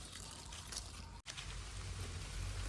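Rain falls steadily outdoors in a rural setting, a faint, soft, even hiss of drops with a brief dropout midway and no voices.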